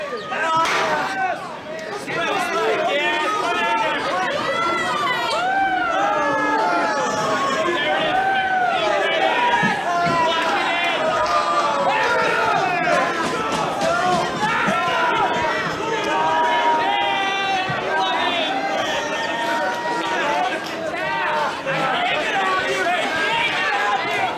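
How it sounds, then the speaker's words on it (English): A hardcore wrestling crowd at ringside yelling and chattering continuously, with a near voice talking over the din and scattered knocks of chairs being hit on the far side of the ring. "You can hear the sounds of chairs and the reaction from the crowd on that side of the ring."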